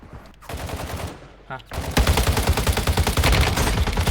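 Rapid automatic gunfire from a tuned, low-recoil rifle in the Warzone Mobile shooter, a quieter burst first and then loud sustained fire dominating the second half, with game sounds layered around it.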